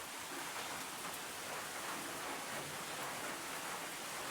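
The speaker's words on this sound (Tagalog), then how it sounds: "magdamag yung ulan. Hanggang ngayon ay ulan." Steady rain falls without pause on a cold rural morning, a soft even hiss of drops hitting surfaces, moderately quiet and unbroken.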